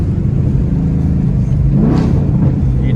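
A Mustang set up as a race car, its engine rumbling loud and close from inside while driving, with a deep steady drone and a brief shift in pitch near the middle.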